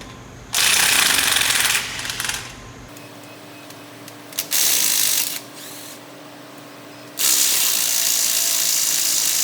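A DeWalt cordless power tool whirs on the axle of a 2012 Ram 3500 in three loud, close bursts of a few seconds each, with a quieter mechanical hum and clanks between them.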